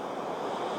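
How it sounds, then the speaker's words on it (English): Ocean waves beat against a coast as a steady, broad wash of surf, fairly faint, with no talking, over a short moment. "You can see the waves of the ocean beating the coast."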